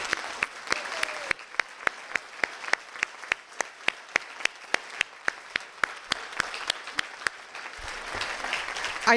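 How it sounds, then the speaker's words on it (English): An audience applauds at a 2022 pilgrimage speakers event, with crisp, rhythmic claps repeating at a steady pace for several seconds before fading out. "I'd like everyone to give him a round of applause"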